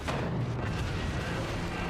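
Cannon fire in the modded video game Forts, heard as a dense, continuous wall of low booming rumbles that stays fairly loud and steady throughout, with no talk over it.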